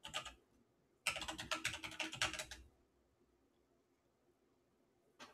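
Someone types a password on a computer keyboard: a short burst of keystrokes, a pause, then a dense run of rapid clicks that stops abruptly. The taps are close and fairly loud in a quiet room, with no voices.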